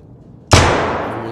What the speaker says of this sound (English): there's somebody with a silenced fucking gun